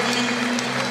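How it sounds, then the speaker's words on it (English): A stadium crowd at the 2006 Paris rugby sevens applauds Fiji, a dense, steady wash of clapping and cheering that fills the whole second, with a faint sustained tone running underneath. "So Fiji then receive the acclaim of the crowd here at the Stade Charletti"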